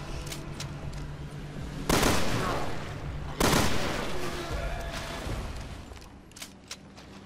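Pistol fire in Resident Evil Revelations 2 using a double-shot mode, two loud sharp blasts about a second and a half apart, each trailing off in a long decay over game background noise.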